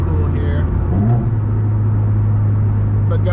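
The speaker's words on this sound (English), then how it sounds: "But guys, the noises are great, including that burble mod." A tuned 2015 Subaru WRX with the FA20DIT turbo flat-four and a burble mod drones from inside the cabin, the engine note rising briefly then holding a low steady hum while someone talks over it.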